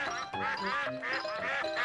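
Cartoon ducks quack in a rapid, busy series of nasal calls, close and loud, in a children's animated show about painting.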